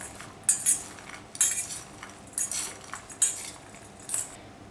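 Sprouted protein salad with tomato being mixed by utensils, a series of bright metallic clinks and scrapes repeating roughly every second, close by, without speech.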